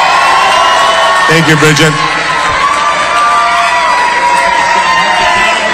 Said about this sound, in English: can we give my wife an amazing round of applause, please?